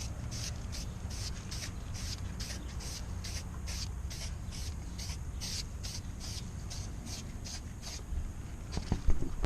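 Sanding rusted car body metal before filling with Bondo, a steady abrasive rubbing with regular strokes repeating about twice a second, close and moderately loud, with some handling knocks near the end.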